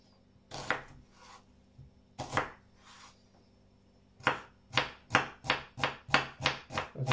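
A knife finely chops red onion on a board for a smoked chicken and mushroom salad: a few separate cuts, a pause, then a steady run of about eight quick, close strokes.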